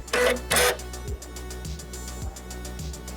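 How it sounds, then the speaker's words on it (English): A Brother PR670 embroidery machine runs its automatic needle threader: two short bright whirring bursts up front, then a low mechanical hum with faint repeated thumps of the mechanism, close and with no talk. "Guide the thread across the needle threader, trim it off, and press the threader button once more."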